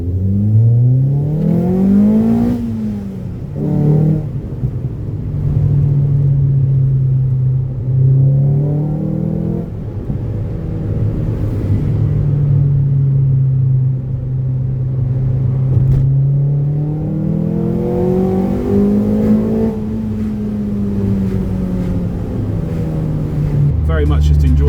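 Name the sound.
Ford Fiesta ST Duratec 2.0 engine with Mountune inlet manifold, driving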